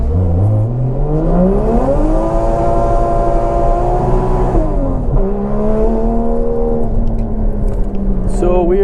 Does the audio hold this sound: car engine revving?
yes